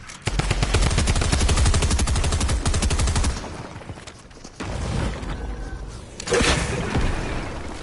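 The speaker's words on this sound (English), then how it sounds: "I switched to my SMG real quick because these gold SMGs shred builds" Rapid bursts of gold SMG fire in Fortnite rattle loudly against player-built structures, a dense stream of shots for about three seconds, then a pause, with further clattering fire and impacts resuming in shorter bursts.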